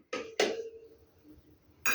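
Ice cubes dropped one by one into a bowl of water, two sharp clinking hits close together followed by a third after a pause, close and crisp with quiet between.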